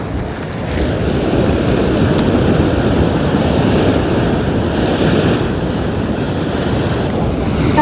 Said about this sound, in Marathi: अजून एक मोठी लाट येते.